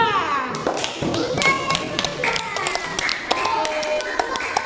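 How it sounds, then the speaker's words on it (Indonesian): A classroom group claps for a team of students, with scattered sharp hand claps and taps overlapping unevenly at moderate volume. "Kita beri aplaus kepada kelompok 2."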